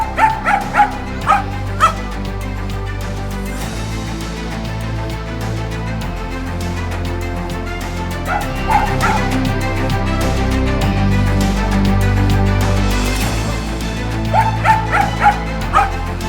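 A stray dog yips and barks in quick clusters at the start, middle and end, heard over steady loud street traffic noise near a kindergarten crossing.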